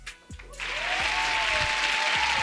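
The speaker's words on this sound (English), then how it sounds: "round of applause for our hoodies" Applause for hoodies on a talk-show set rises quickly after a brief pause and holds as a steady, dense wash of clapping, with a faint tone lingering underneath.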